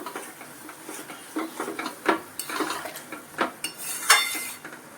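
Fried boondi being stirred in thickened sugar syrup in a pan, with irregular scraping and clinking of a spoon against metal, close and moderately loud with no one speaking.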